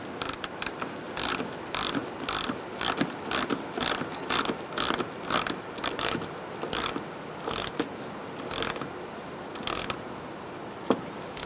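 Ratchet clicking in repeated quick bursts while tightening radiator fasteners on a 2010-2013 Kia Soul 2.0L L4, loud and close with short pauses between strokes, no talking.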